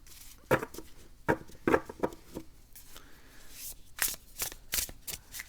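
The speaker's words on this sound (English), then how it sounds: "Love the way the cards sound." Catharsis Tarot cards being shuffled by hand, several quick riffling bursts and soft card taps close to the microphone, with brief quiet gaps between shuffles.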